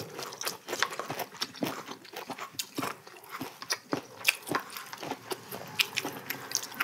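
Close, crisp chewing and biting of grilled pork belly wrapped in vegetables with kimchi, a steady run of crunchy bites and mashing with no talking.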